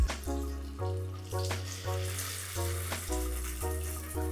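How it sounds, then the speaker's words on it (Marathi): Prawns frying in hot oil in a pan, a soft sizzle beneath a strong tonal hum whose pitch shifts in steps, with a few light clinks, close and without talk. "सर्व प्रॉन्सना आपल्याला म्हणजे कोलंबी फ्राय करून घ्यायचे"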